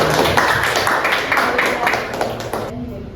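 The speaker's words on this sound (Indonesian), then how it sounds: "tepuk tangan buat teman kalian" A class of students claps for a classmate in a classroom, with scattered hand claps under ongoing talk and a short, steady burst that fades near the end.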